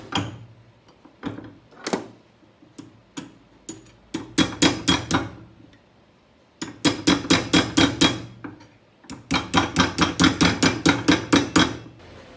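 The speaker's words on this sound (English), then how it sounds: "go to the last and give it a few whacks with the hammer" A hammer strikes a metal horseshoe-style heel plate fitted on an RAF drill shoe held on a last, in sharp ringing clangs, first a few spaced hits, then rapid bursts of close, loud blows with no talking.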